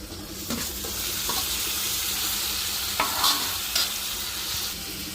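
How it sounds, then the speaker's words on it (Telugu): Ginger-garlic paste being stirred into frying onions and tomatoes in a pan, a steady sizzle with a few scraping strokes of the spoon, close and continuous with no talk. "అల్లం తెల్లగడ్డ పేస్ట్ అయితే కలబెట్టేద్దాం, బాగా మగ్గిపోతుంది"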